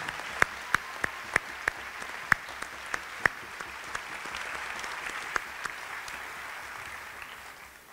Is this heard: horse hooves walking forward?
no